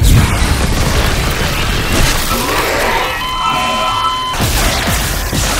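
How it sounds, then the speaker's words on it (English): A grenade launcher blast in Dead Space Remake: a loud, dense boom fills the opening seconds, then metallic ringing tones and debris rattle follow, with a second burst of crashing noise near the end. "Oh, it's a grenade launcher."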